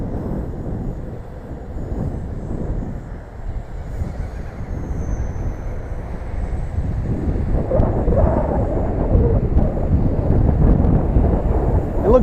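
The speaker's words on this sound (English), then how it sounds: "That's some wind right there." Strong wind roaring outdoors at night, a steady dense rumble with gusts that swell louder toward the end, no voices over it.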